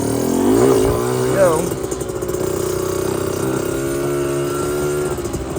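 A 1988 Yamaha DT50LC two-stroke motorcycle pulls away in first gear, its engine revving up sharply at the start, then settling into a steady buzzing drone as it rides off, with a voice speaking briefly.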